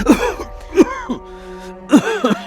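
A man coughs and clears his throat in a few short, harsh bursts close to the mic, with a pause before a final double cough.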